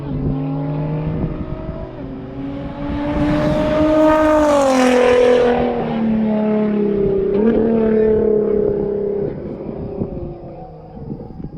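Race cars on a track, with a Tesla passing a Nissan GTR: engine whine rises and sweeps in pitch as cars pass close by, loud and sustained, then fades to a distant hum.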